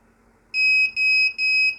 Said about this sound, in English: it's got no camera, no hard drive, so that's why it's beeping